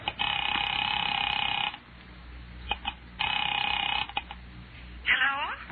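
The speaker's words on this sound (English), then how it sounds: "Picking it up quietly, I dialed my daughter's number, Alec Bartlett's wife." A telephone in a radio drama rings in long electronic bursts, two clear rings separated by a pause, with faint dialing clicks between and a muffled voice at the end.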